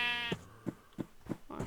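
A sheep in a survival video game farm gives one drawn-out bleat, followed by a few short, soft thumps and a closing bleat-like sound, all fairly close with no talking.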